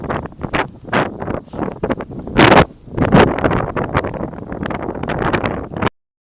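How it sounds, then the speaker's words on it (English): Loud gusts of wind buffet the microphone in irregular bursts in a tunnel near Palace Square, St. Petersburg, with a strong roaring blast partway through before the sound cuts off abruptly. "it's super windy here because this is a tunnel right here"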